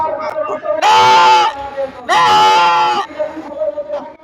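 A man imitates a goat with two loud, quavering bleats about a second long, separated by a short pause, heard close and clear with faint murmuring around them.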